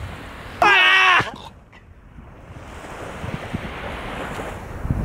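Ocean waves and wind on a sandy beach, with a brief high tonal cry near the start, then a low, continuous surf rush and breezy wind noise.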